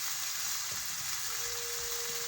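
Fried potatoes and jackfruit added to a hot pan with spices: a steady, soft sizzle and frying hiss close by, with faint stirring and no talking.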